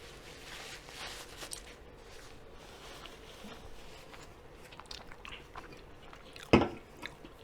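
Someone chews a brisket sandwich up close, soft wet bites and mastication sounds at a low level throughout, with one sharper thump near the end.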